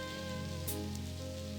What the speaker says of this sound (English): The combination of rain and jazz is pretty soothing.